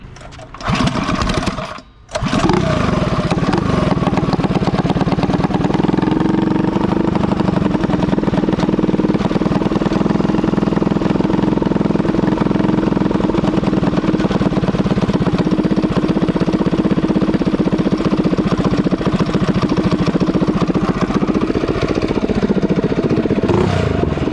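A Predator 212 mini bike engine pulls over and catches, then runs steadily at a loud, close, buzzy idle for over twenty seconds, a small single-cylinder drone with a faint rise in pitch near the end.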